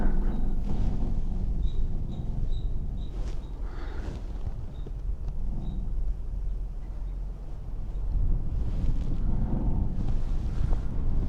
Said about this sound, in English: we got a nice breeze going on right now. Wind is really kicked up.